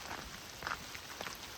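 Rain falls during a late-October hike south of Mt St Helens, a faint, soft patter of drops on surfaces with scattered light taps over a quiet hiss.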